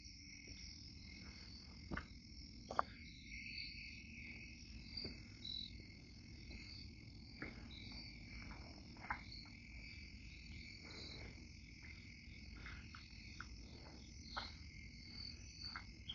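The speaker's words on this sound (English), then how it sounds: "I can hear crickets." Crickets chirp at night in a small forested area on an island, forming a continuous high trilling chorus with scattered faint clicks and croak-like calls mixed in.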